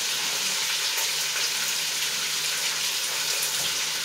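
Fresh ginger and turmeric are rinsed under a running kitchen tap, a steady, close hiss of water splashing that carries on unbroken for a few seconds, with no voices.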